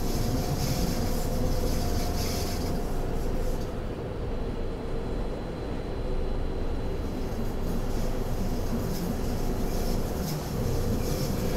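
A train runs along the Bernina Line in Train Simulator 2020, a loud, continuous rumbling roll of wheels on rails with a steady hum, briefly easing in tone midway and otherwise unbroken, with no talking.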